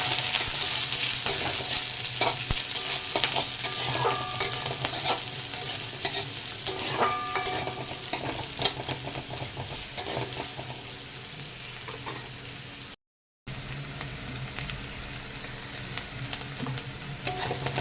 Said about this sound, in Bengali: পেঁয়াজ রসুনটা ভালো করে ভাজা হয়ে গেছে,